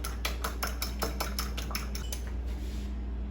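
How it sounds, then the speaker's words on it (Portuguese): An egg is beaten by hand in a bowl for pancake batter: quick, evenly spaced clinks of the utensil against the bowl repeat for a few seconds over a steady low hum, then taper off. "Coloquei o ovo aqui. Agora é só a gente bater."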